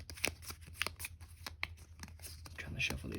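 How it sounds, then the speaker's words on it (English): Cards for the Unmatched board game are shuffled near at hand, a quick series of soft riffling flicks and slaps running through the whole stretch at low volume, with no talk over them. "I'm trying to shuffle these real good."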